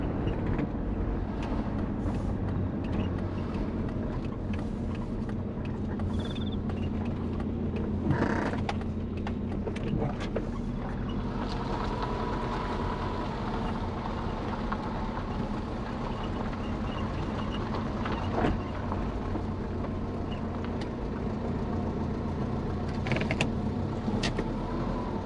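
A built Subaru Forester with a faulty power steering drives along, its steady engine and road rumble running throughout with creaks and mechanical knocks over the top, no voices.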